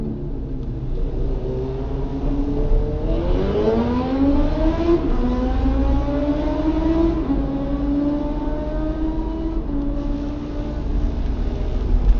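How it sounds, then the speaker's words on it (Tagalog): A big motorcycle engine roars and revs repeatedly, its pitch climbing and falling in surges over a constant rumbling drone, on a city avenue. "talagang malakas yung hugong ng motor niya kasi pabomba-bomba siya"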